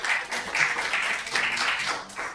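Audience applause and cheering at a city council hearing, a burst of clapping with a few scattered whoops, moderately close and lasting a couple of seconds without speech.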